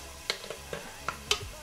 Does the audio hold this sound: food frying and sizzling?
yes